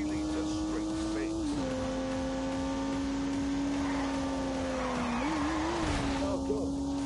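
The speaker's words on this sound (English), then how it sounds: "unleashed 365 rampaging horsepower from the turbocharged 3-litre straight six" A turbocharged 3-litre straight-six car engine in The Grand Tour video game, a steady droning engine note that dips and rises with gear changes, heard under someone talking, with brief tyre-like hiss.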